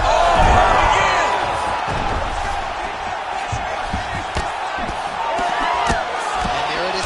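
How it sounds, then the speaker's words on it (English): A UFC 5 video game fight plays as a crowd murmurs and swells in reaction to strikes, with sharp thuds and slams landing over the noise while a commentator talks throughout. "you hear the crowd react every time they come together"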